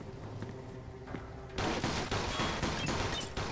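A video-game shootout in Mafia II: scattered distant shots give way to sustained loud automatic gunfire that keeps going in dense rapid bursts.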